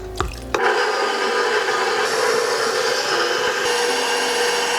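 Stand mixer with a dough hook working bomboloni dough before the eggs, yeast mixture and vanilla go in: a couple of clunks, then a steady, loud motor whir and churning that continues without break.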